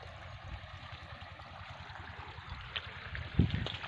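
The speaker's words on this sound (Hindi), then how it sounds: "ये देखिए पानी चल रहा है अभी," Water runs from an irrigation pipe in a cotton field, giving a steady low gurgling trickle across the whole stretch, with a slightly louder splash near the end.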